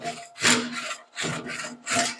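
A Japanese Ryoba pull saw flush-cuts wood, giving three loud, rasping pull strokes in a steady rhythm with brief pauses between them, close up and with no voices.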